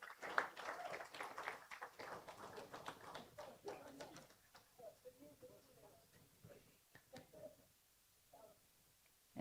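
Audience applause at a trophy presentation during a business summit, a dense burst of clapping that thins out into scattered claps with faint voices mixed in.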